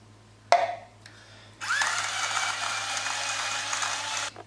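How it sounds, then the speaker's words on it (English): A bowl of plain gluten-free flour with baking powder and salt is stirred: a sharp knock, a short scrape, then about three seconds of steady close scraping and whirring, with no talk. "Give it a good stir."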